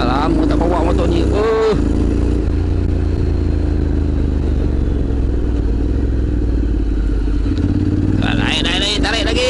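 A Honda X-ADV 750 scooter-style motorcycle engine drones loudly and continuously while riding, with revs rising at the start and again near the end as it accelerates, and a voice briefly heard over it.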